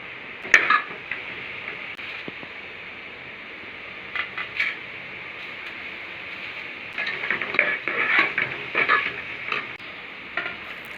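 Kashmiri chilli powder, turmeric and salt sizzle softly in a pan for a banana flower curry, with steady frying hiss, punctuated by a few stirring scrapes and clinks of a spoon.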